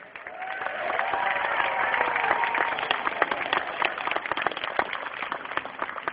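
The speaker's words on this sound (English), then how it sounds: "Can we get a round of applause for all the airmen in the arena?" A large arena crowd breaks into sustained applause, dense clapping swelling and then holding steady, with a faint lingering tone from a voice or the sound system at the start.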